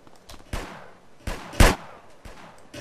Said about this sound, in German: Jetzt schießt er mich doch.